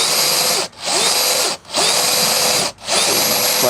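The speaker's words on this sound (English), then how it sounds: "Bore 2 holes." Power drill fitted with a 5/8 fastener bit boring into reclaimed wood, a loud, steady whine in four bursts separated by brief pauses, close and without speech.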